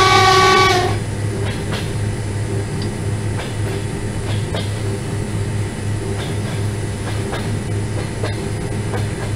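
A train horn in the ZDSimulator train game, on an EP1M electric locomotive hauling a passenger train: a loud horn blast about a second long, then a steady rumbling ride with faint rhythmic clicks from the rails.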